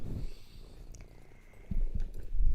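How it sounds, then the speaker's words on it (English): A cat purrs close by in a soft low rumbling rhythm, with faint small handling noises around it. "She's a proper purring machine, isn't she?"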